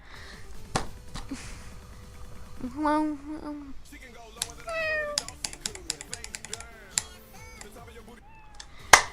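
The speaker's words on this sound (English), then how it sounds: "It's just a meow. It's a simple meow, bro." Cartoonish cat meows sound repeatedly from a Zelda-style video game during a Fire Temple run, several short rising and falling mews scattered among game music, chimes and clicking effects, with occasional talk over it.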